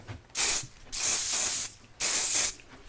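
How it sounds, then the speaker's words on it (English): Hairspray hisses out of a can in three bursts, the middle one long and sustained, loud and close with short gaps between sprays. "Going to hairspray more."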